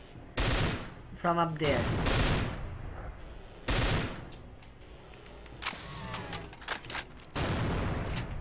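Bursts of gunfire in the video game Complex Hell on Earth, several loud broadband blasts and rapid volleys spread across the scene, with someone talking briefly between shots.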